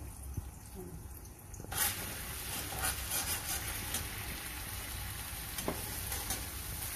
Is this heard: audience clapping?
no